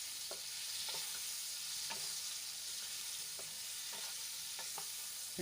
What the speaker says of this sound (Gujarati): આપણે કાપેલા ચીબડા એડ કરી લઈશું અને સરસ રીતે આપણે તેલમાં મિક્સ કરી લઈશું